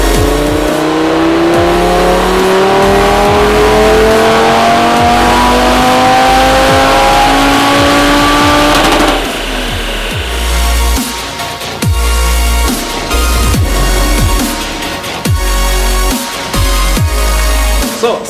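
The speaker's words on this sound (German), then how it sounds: "jetzt sind wir schon wieder am Prüfstand und jetzt machen wir die weitere Messung" Audi TT RS with an APR Stage 2 tune running on a dyno, its engine loudly revving up through the rising pitch, then sharp shifts and repeated throttle pulses as the run continues.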